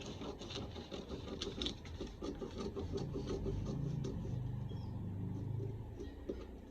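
Scissors cut through paper while bodice pattern pieces for a princess-dart block are trimmed out, a close, quiet run of rasping snips and rustling slides, no talk.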